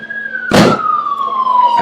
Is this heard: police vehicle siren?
yes